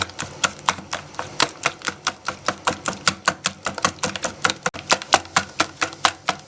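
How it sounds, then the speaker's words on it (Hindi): Eggs and cream being whisked in a bowl for halwa, a brisk regular series of sharp clicking taps from the whisk, close and evenly paced throughout. "अब दोबारा से अच्छी तरह से फेंटें"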